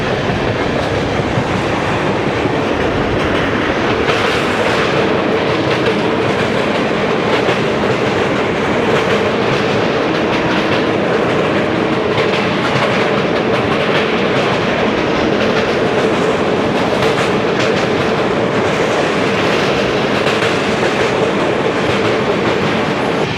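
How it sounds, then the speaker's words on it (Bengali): An Indian Railways express train runs over the tracks with a loud, continuous clickety-clack and rolling rumble that lasts throughout, with no talk. "চলে আসছে train number 12-129 Pune Howrah Azad Hind express"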